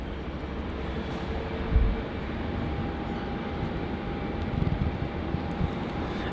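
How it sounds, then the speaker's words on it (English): A Qantas jet arriving from Canberra lands on runway 16 at Melbourne Airport in heavy rain. A broad, steady rumble of engines and weather noise holds throughout, swelling slightly near the middle, with no talk. "We've got a little pocket rocket coming in on runway 16. And this is going to be QF 1513 from Canberra."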